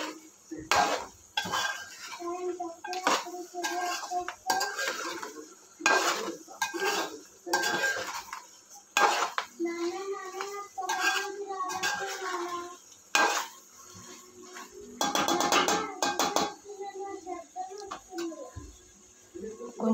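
A spoon clatters and scrapes in a pot as tomato puree is stirred into mutton curry, with repeated metallic knocks in irregular bursts, close and fairly loud, mixed with a voice and faint birdsong.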